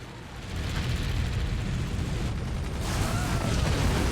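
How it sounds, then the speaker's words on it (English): Nukes exploding in the strategy game Forts, a loud rumbling blast that swells and sustains with dense low booms and debris crackle for several seconds. "Nukes are coming in"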